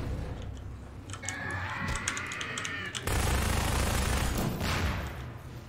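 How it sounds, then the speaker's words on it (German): Gunfire and an explosion in Half-Life 2: rapid bursts of shots crackle in the first half, then a sudden loud blast rumbles and lingers to the end. "Das war eine verschwendete Explosion."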